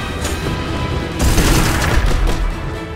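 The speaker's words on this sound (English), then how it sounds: "I can hear a fucking machine gun." Sustained rattling gunfire in the wizard-dueling game Magicka, a dense burst of booming shots that grows louder midway and keeps pounding through to the end, with no talk over it.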